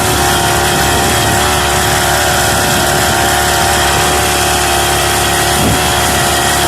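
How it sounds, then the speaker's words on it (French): A steady Motostandard Gutbrod engine drones continuously close by during a ride, with wind noise and rattling mixed in, no voices. "entre le bruit du moteur dedans et puis le vent, c'est pas évident"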